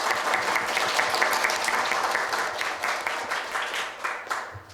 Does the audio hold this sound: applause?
yes